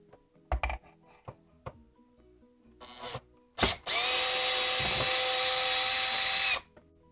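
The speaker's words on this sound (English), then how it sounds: "There's a screw inside, so unscrew them all before you can lift this countertop off." Power drill unscrewing countertop screws from under a kitchen cabinet, a few clicks and handling knocks, then one loud, close, continuous whirring burst lasting about three seconds before stopping.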